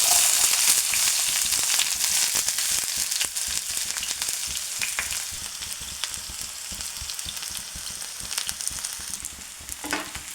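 Sliced onion frying in oil just after mustard seeds have popped in a pan, a dense close sizzle with repeated clattering stirring strokes, no voices.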